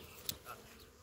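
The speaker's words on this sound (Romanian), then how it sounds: "Vă aud albinuțelor." Honeybees buzz faintly around a hive during outdoor beekeeping, a low continuous hum with a brief sharper buzz as one passes close.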